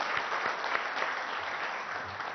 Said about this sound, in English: I think he deserves a big round of applause.